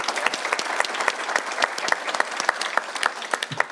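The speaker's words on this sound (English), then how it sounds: "Marilynn Gardner, let's give her a round of applause." A panel audience at a business of entertainment and culture event gives a round of applause for Marilynn Gardner, with moderately sized crisp clapping that stays steady throughout before fading slightly.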